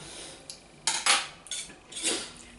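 Metal and plastic spoons handled and tapped together, giving several short bright clinks and clatters in a quiet room, close by and with no talking.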